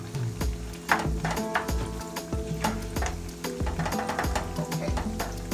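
A spoon stirring sweet plantain filling in a sizzling pot, with steady frying hiss under repeated scraping and knocking strokes against the pot, continuing for several seconds without talk.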